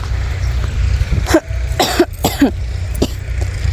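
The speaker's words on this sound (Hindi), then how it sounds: "खांसी से एकदम हालत ख़राब हो रही" Several harsh coughs in a row, close and loud, separated by short pauses over a steady low outdoor rumble.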